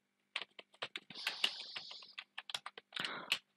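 Text typed on a computer keyboard, quick light key clicks in short irregular bursts with brief pauses between, close and quiet with no talking.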